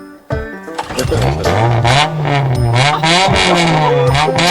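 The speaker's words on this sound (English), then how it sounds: "Making that little bitty engine sound good." A small generator engine starts abruptly and runs loud and close, its pitch rising and wavering as it revs steadily.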